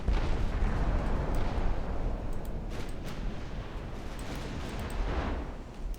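Torpedo hits in the naval game Ultimate Admiral Dreadnoughts: heavy rumbling detonations and a continuous low roar of explosions at sea, dense and booming throughout.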